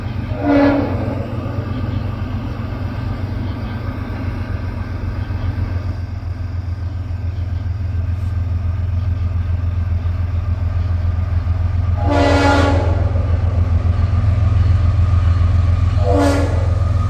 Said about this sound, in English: That RS5T horn.